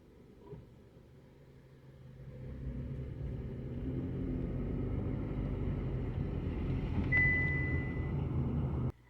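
A Mitsubishi Outlander pulling away, heard from inside as a low engine and road rumble that builds from quiet into a steady drone and holds until a sudden cutoff.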